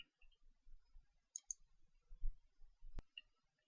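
A single sharp computer mouse click on a Save button, quiet and close, preceded by faint soft clicks and low room rumble.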